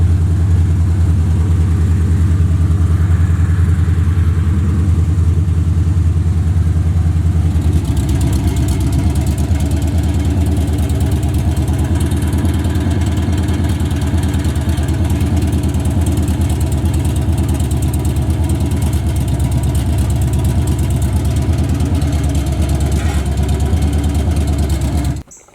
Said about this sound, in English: Y'all see the car running good now.